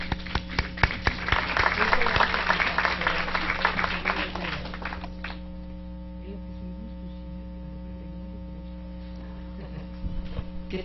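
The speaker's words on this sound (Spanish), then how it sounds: "Recibámosla con un fuerte aplauso," An audience at a public presentation applauds, with dense clapping building and peaking in the first few seconds, then thinning to scattered claps over a steady electrical hum.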